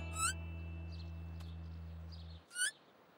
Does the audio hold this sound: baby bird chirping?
yes